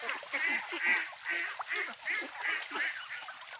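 Ducks quack in a steady series of loud, close calls by a stream in the morning after feeding, each burst of quacking following the last with short gaps and no voices.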